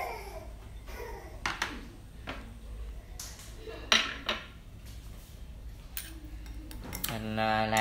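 Tomatoes and sugar are stirred together in a bowl with a utensil, giving scattered clinks and scrapes against the dish amid faint background noise, ending in a brief high ringing tone.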